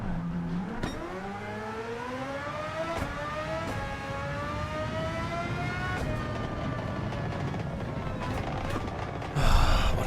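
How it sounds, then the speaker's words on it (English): Race car engine in the Gran Turismo 7 game, with a rising, revving whine sustained across the whole stretch and sharp crackles near the end that fit anti-lag firing, loud and steady with no talking. "can hear the anti-lag go on this thing,"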